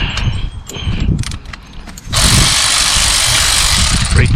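A hand wrench working on the 14 mm front brake caliper bolts of a 2017-2020 Hyundai Elantra Sport: a few sharp metallic clicks, then a sudden loud, sustained harsh ratcheting noise close up.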